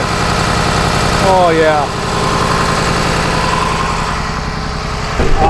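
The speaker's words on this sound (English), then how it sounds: "that is a fantastic engine for Cummins. I love that ISB." A Cummins ISB diesel idles in a 2011 Blue Bird All American 78-passenger school bus, a loud, steady rhythmic chug with close clattering, while someone speaks briefly over it.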